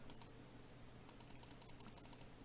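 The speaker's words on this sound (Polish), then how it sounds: "Fajną klawiaturę dostałem" Fingers typing on a new computer keyboard: quiet, a brief pause, then a quick, fairly even run of crisp key clicks through the second half, with no voices.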